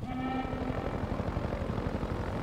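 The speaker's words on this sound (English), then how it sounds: "here comes the helicopter" A helicopter approaching in the video game Half-Life 2, a choppy rotor thudding with a brief tonal engine whine at the start, moderately loud over game ambience.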